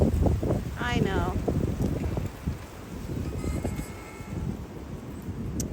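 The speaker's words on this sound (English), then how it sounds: "See, the wind is getting him scared." Strong wind gusts on a windy evening, a broad rushing roar buffeting the microphone throughout, with a person speaking briefly near the start.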